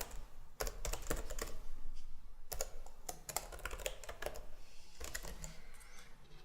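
A URL typed on a computer keyboard, close and clear, with quick bursts of key clicks broken by short pauses and no speech.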